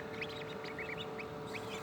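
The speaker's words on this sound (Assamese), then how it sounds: "আৰু আজি মোৰ হাঁহৰ পোৱালি ওলাইছে, কণীৰ পৰা লাহে লাহে ওলাই আছে।" Newly hatched ducklings peep in a homemade incubator with a cooling fan: a scatter of short, high chirps rising over a steady, constant hum.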